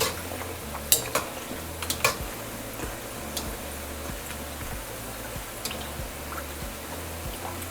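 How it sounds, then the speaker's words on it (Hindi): A frying mixture is stirred in a pan over medium heat: soft, steady sizzle beneath repeated light scrapes and metallic clicks of a spoon against the pan, close and fairly quiet, with a low rhythmic hum underneath. "आपने ये मीडियम चूल्हा ही रखना है और इस तरीके से आप इसको फिर हिलाते रहें"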